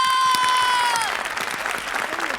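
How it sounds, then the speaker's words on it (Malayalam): Audience applause at a reality dance show on stage, a dense wash of clapping with a steady tone and voices briefly over it, fading slightly toward the end. "എന്നാലും നല്ലൊരു കയ്യടി നമ്മുടെ വക,"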